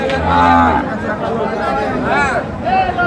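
Sahiwal cattle low at a busy livestock market in Dinajpur, with a long close moo at the start and shorter calls later, over steady crowd chatter and people talking nearby.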